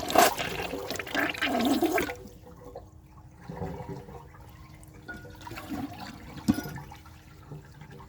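A Gerber Maxwell wall-mounted toilet flushes a dish towel, a loud rushing flush for about two seconds, then fading into quieter trickling and gurgling with a small knock near the end.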